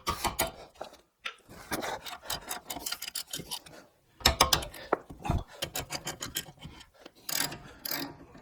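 A wrench works loose the 19 mm brake caliper bolts on a 2011 Nissan Rogue, with repeated ratcheting clicks and metallic grinding in short bursts and pauses, close and fairly loud, without any speech.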